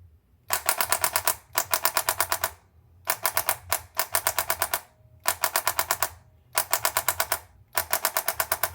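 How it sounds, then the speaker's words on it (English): Sinden light gun recoil while shooting at a game, rapid mechanical rattling bursts of about a second each, repeated eight times with short pauses between, close and loud. "So as you can see, you hear the recoil as I'm going."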